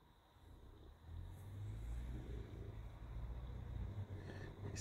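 A car engine rumbles low and steady outside, swelling slightly as it idles or pulls away at a distance, faint and continuous with no talking.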